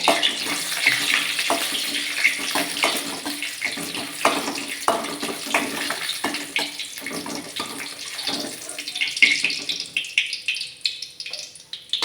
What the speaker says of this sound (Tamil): வரமிளகா சேர்த்துட்டேன் அதை வறுத்து நம்ம மிக்சி ஜாரில் மாற்றிக்கலாம்